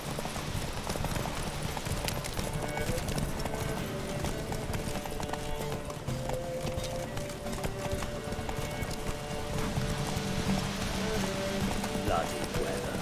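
Roach, a horse in The Witcher 3, gallops through pouring rain, hooves pounding in a fast steady rhythm over a constant wash of rainfall, with a voice speaking over the ride.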